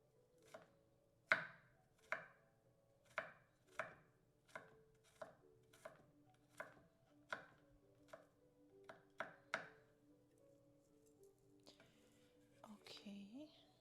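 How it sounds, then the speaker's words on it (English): Knife chopping garlic on a board in a quiet kitchen: a dozen or so crisp, evenly spaced thuds at a steady rhythm, then a softer rustle as the cutting ends. "I'm going to cut some garlic"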